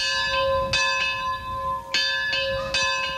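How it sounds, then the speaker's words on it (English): Church bell salvaged from an abandoned church, struck by a homemade bell ringer on a family farm, ringing in several clear, resonant strokes with long overlapping decays. "It's a bell ringer."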